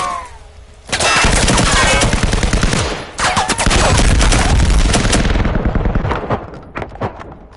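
Dense, loud bursts of rapid automatic gunfire rattle through a video game firefight, with a short gap and then a second long volley before it thins into scattered shots.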